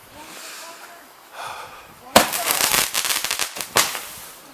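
Consumer fireworks set off at a New Year's Day gathering: after quiet murmuring, a loud bang starts a burst of crackling firecracker pops over about two seconds, then a final sharp crack, close by.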